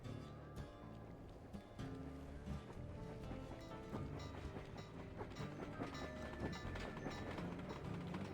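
In the video game Sly 2: Band of Thieves, a train runs with a dense, continuous rumble and clatter, heard alone at a low level and steady throughout.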